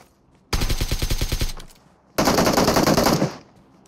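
Two bursts of rapid automatic gunfire in PUBG Mobile, a close, loud rattling string of shots, a short pause, then a second longer burst; no speech over them.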